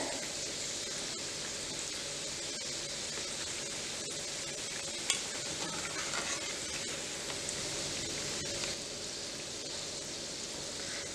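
Mawa gujiya fry slowly in oil over a low gas flame, giving a soft, even, continuous sizzle at moderate distance with one or two small knocks, no talk.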